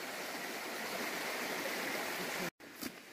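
A stream flowing along a hiking trail near Rocamadour, a dense, steady rush of water heard close and fairly loud, cut by a brief gap near the end before the flow resumes.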